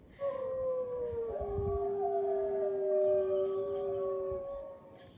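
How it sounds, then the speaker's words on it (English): Gray wolves howl in a recording played back: long, smooth, wavering tones that overlap and slide in pitch, holding steadily for several seconds before fading out, with no talk over them. "This is what gray wolves sound like."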